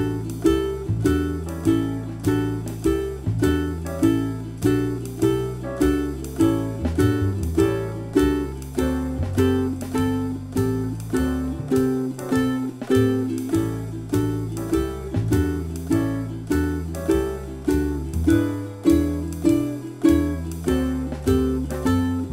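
Ukulele plays an advanced 12-bar blues riff, a loud, even, rhythmic strummed pattern of repeating chord stabs held close and steady with no talking.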